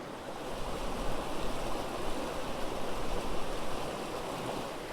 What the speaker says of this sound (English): it's really exciting to be camped on a river again